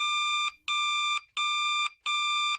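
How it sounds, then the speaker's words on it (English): An old-style electronic phone ring with a distinctive period-electronics tone sounds in four loud, evenly spaced bursts of bright, buzzy ringing, separated by short gaps, with nothing else heard. "the bat phone has this really distinctive sound that was used in a lot of electronics"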